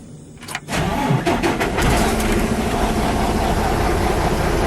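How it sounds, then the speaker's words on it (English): A truck engine cranks briefly and catches during a pre-trip inspection, then settles into a loud, steady, close idle rumble that fills the rest of the moment, with no talking. "and then you will turn the engine on."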